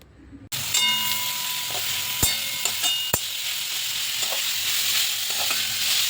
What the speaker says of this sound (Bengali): বিটগুলোকে দিয়ে দেওয়ার পর আমরা এটাকে হালকা একটু নেড়ে নেড়ে হালকা ভাজা ভাজা করে নেব